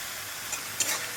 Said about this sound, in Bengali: মশলাটাকে যতক্ষণ না তেল ছাড়ে ততক্ষণ মশলাটা কষবো